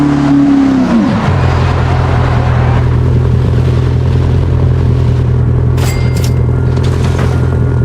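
A McLaren P1 engine in the BeamNG Drive video game drops from a high rev, then settles into a loud, steady, deep droning roar that runs throughout.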